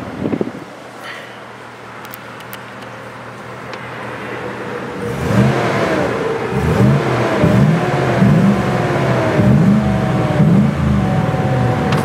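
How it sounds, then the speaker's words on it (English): A 2007 Chevrolet Trailblazer SS engine revs while parked: a quiet idle first, then from about five seconds a series of rising and falling rev blips, close and loud, with some wind noise. "Let's rev it up a little bit so we can hear what's going on."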